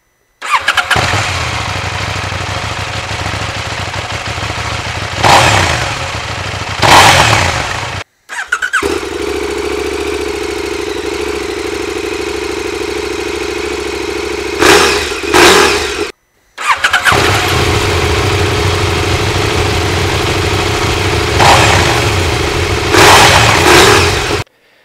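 A KTM 790 Duke parallel-twin motorcycle engine with a 75-degree crank fires up and revs, loud and close, in three separate bursts of steady idle broken by sharp throttle blips, with no talking.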